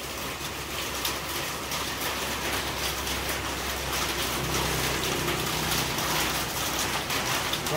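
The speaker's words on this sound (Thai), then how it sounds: "ใช่ฝนตก" Rain pours steadily onto an outdoor site, forming an even, dense hiss with a low rumble beneath it and no voices.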